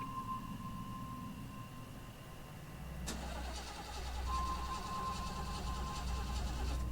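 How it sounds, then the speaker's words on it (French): A car engine in a video game cranks, then catches and settles into a low, steady idle that swells slightly, close and clear with no voices. "La voiture ne démarrait pas."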